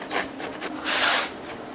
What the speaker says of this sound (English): First I'm gonna gently saw it away a little bit.